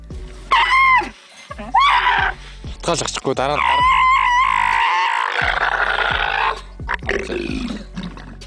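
Frightened camel screaming at a doctor: loud, harsh, repeated bellowing and gurgling cries with rising and falling pitch, close and almost continuous, with a few brief pauses between outbursts.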